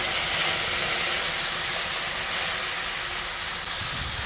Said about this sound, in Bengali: তো আমি এখানে দিয়ে দিলাম গরম জল।